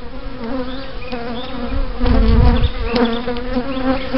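Honey bees buzzing steadily around a spring hive, a loud, dense drone of many insects very close, swelling slightly midway with no speech.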